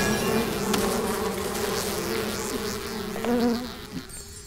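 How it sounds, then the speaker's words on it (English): A summoned bee in Popup Dungeon buzzes steadily and close, its drone wavering slightly in pitch for a few seconds before fading. "Summon another bee."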